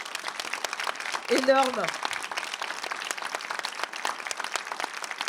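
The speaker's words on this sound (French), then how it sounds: "Je voudrais vraiment qu'on les applaudisse parce que c'est un boulot absolument" Audience applause at a round-table discussion on sexist violence, honoring sign-language interpreters. Steady, dense clapping runs throughout, with a single spoken word near the start.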